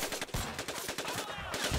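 Rapid bursts of machine gun fire crackle in quick succession, a dense, clattering volley of shots from the video game Medal of Honor: Pacific Assault.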